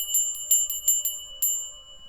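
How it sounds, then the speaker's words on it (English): A small hand bell rings in a quick series of bright metallic strikes, seven or eight in a short run, each leaving a clear sustained ringing tone that fades in a quiet room. "Let me ring my bell"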